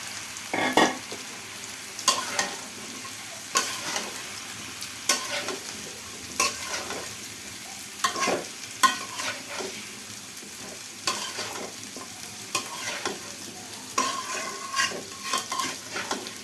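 Cauliflower, green tomato and new potato curry being sautéed in a pan, with a low sizzle under regular spoon scrapes and clinks about every second, close and steady without speech.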